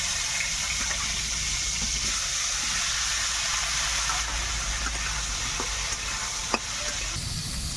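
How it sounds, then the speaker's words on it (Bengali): Jackfruit pieces frying in oil in a wok, a steady loud sizzle with stirring and scraping throughout, with a single sharp clink near the end. "এবার আমি কড়াইয়ে যে তেল আছে, সেই তেলে আমি কাঁঠালগুলোকে ভেজে নেব।"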